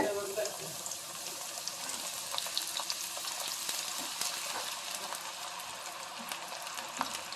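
Hot oil crackling and sizzling in a pan ready for onion pakoda, a continuous bright hiss with small pops and faint clatter.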